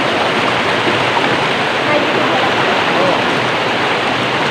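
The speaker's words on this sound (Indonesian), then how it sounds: "nikmati aja suara airnya" A river flowing near a mountain trail, with a continuous loud, close rush of water and no breaks, like a stream or small waterfall.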